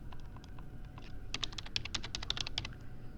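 Rapid typing on a computer keyboard while entering a sheet name in an Excel spreadsheet, a quick irregular run of close, crisp key clicks with no talking.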